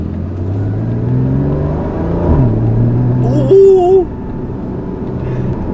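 A Porsche Boxster 2.7 (981) driving in Jakarta, its engine droning and rising through the gears with a shift midway, heard from inside at moderate level with a faint whine over the rumble.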